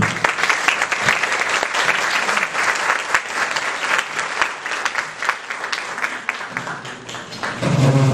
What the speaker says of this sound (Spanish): les pido que le brindemos un fuerte aplauso